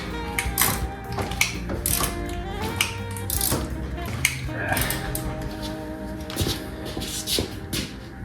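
A ratchet wrench tightens bolts on the front fork of a Honda Goldwing GL1800 motorcycle, giving bursts of close, rapid metallic clicking with occasional clanks of tools against metal, throughout.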